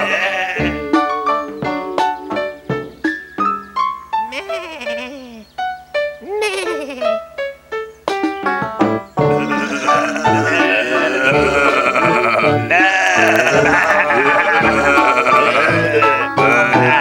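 Sheep bleating in a musical children's scene, with several wavering calls over bright instruments, then a voice singing over fuller music.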